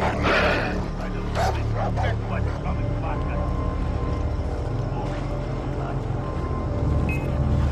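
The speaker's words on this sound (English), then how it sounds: "Shit. Dogs." Dogs barking in the video game Far Cry 3, a few short barks early on over a constant low rumble of game ambience and water, with someone talking quietly throughout.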